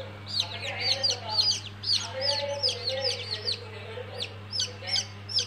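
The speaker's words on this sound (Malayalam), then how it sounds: "മെല്ലെ മെല്ലെ കോഴിക്കുഞ്ഞുങ്ങൾ പുറത്ത് വരുന്നുണ്ട് കൂടൊക്കെ പൊളിച്ചിട്ട്." Newly hatched chicks peep in an automatic incubator, a quick series of high, thin chirps repeating throughout, fairly soft over a steady low machine hum.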